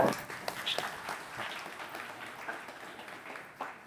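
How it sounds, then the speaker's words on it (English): Audience applause at a Cambridge Local First summit, a steady wash of clapping from a seated crowd lasting several seconds and fading slightly toward the end, heard at moderate distance. "Let's give him a round of applause."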